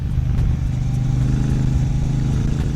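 A 2026 Triumph Bobber or Speedmaster motorcycle engine idles with a deep, rich, steady low rumble, loud and close, with no voices.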